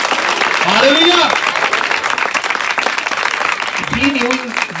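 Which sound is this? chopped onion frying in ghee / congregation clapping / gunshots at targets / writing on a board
congregation clapping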